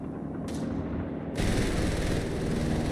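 Machine gun fire in the Company of Heroes 3 video game, a faint rattling burst that swells into a denser, louder stretch of rapid gunfire in the second half.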